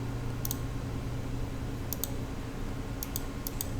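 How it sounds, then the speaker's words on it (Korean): Computer mouse clicking during drafting-software work, heard as sharp double clicks in a few spaced pairs over a steady hum of background noise. "선택하고 클릭, 선택하고 클릭."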